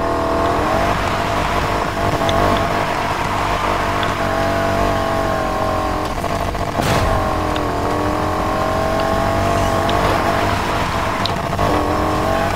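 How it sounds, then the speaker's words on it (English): A straining car engine holds a high, wavering drone while drifting in a racing video game, pitch sliding up and down under throttle with a brief tire squeal midway, loud and continuous without speech. "the car is struggling"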